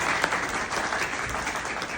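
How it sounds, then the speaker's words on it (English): Warm, continuous audience applause closes a talk on entrepreneurship, leadership and a book, with dense, even clapping from a nearby crowd and no speech over it. "round of applause"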